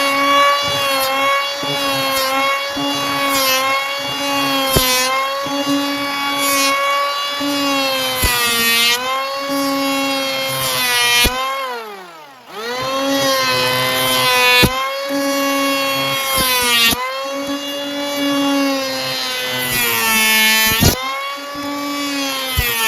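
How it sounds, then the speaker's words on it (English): A planer shaving down the thick end of a wooden board, a loud, steady high whine with repeated biting cuts and one dip where the cutter bogs and recovers, close and continuous. "So we're gonna go ahead and get the planing done first."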